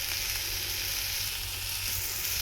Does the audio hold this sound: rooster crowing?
no